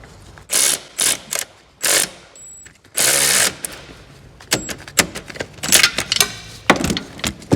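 A ratchet on an extension bar tightens anti-roll bar bush bolts on a 2014 Vauxhall Astra J front suspension, giving several close, loud bursts of rapid clicking separated by pauses, no talk.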